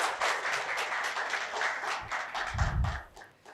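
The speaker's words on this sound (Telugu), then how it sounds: "నిజంగా మిమ్మల్ని వన్స్ అగైన్ క్లాప్స్ ప్రతి ఒక్కరు కొట్టండి బాస్." An audience claps in the rain at a company gathering, a fairly faint, uneven patter of hands with a few louder claps near the end.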